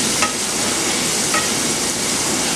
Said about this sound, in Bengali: এবার এগুলো ভালো করে আমার ফ্রাই করতে হবে।